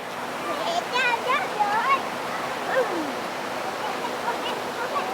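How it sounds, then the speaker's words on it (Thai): A steady rushing roar of falling water at Mae Ya waterfall in Chom Thong, Chiang Mai, Thailand, with brief high chirps and calls rising above it. "อ๋อนี่เห็นน้ำตกแล้วครับ"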